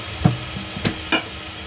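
Spices frying in a pan for a millet pulao are stirred with three brief, separate scrapes over a faint, low sizzle, close and quiet.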